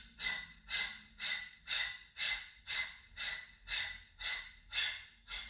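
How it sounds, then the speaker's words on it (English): A long, steady exhale in a yoga breathing exercise, repeated in about ten even, airy breaths roughly half a second apart, close to the microphone with no talking. "fully exhaling for 10."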